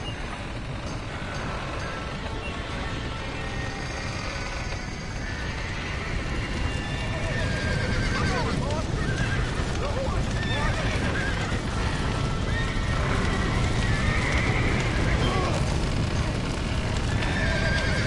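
Horses neigh and whinny repeatedly over clattering hooves and a busy, noisy scene in Red Dead Redemption, with shouting voices mixed in throughout.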